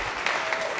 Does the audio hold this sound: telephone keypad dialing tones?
no